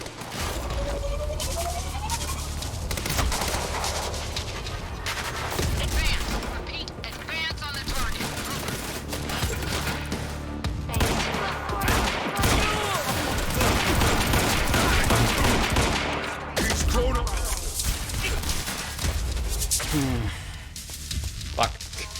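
Sustained bursts of gunfire from the video game Quantum Break, dense and continuous, with crashes and game effects layered over it while someone talks throughout.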